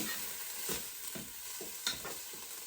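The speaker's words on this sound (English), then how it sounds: "So I'm just stirring that in." Garlic being stirred in a cooking pot, a few soft scraping strokes over a faint steady sizzle, close and quiet with no talk.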